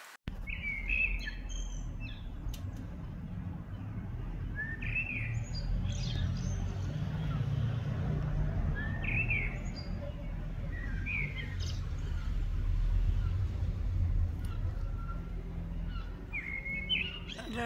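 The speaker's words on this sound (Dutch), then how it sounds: "Daar zit er dus weer een merel in die boom, maar ik weet het al niet waar." A blackbird sings from a tree, its short, fairly distant phrases repeating every second or two over a low, steady outdoor rumble.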